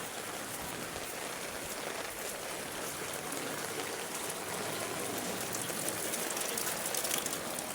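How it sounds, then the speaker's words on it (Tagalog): Heavy rain during a typhoon near a small wet market, heard as a steady, dense patter of drops hitting surfaces, even and unbroken throughout, faint in level with no voices. "Malakas ang ulan."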